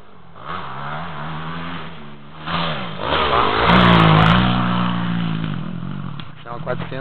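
A 400cc motorcycle revs nearby, its engine note climbing and falling in repeated pulls, loud and close, with people talking over it.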